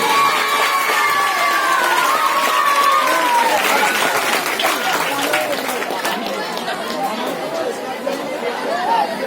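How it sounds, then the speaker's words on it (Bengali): A school audience at a Teachers' Day celebration claps steadily, with crowd chatter and children's shouts mixed in and voices carrying over the applause. "হাততালি।"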